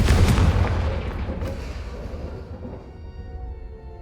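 A Confringo blasting curse explodes in the Hogwarts Legacy video game: a single heavy, booming blast, loud at the start, then a long rumbling decay that fades over several seconds.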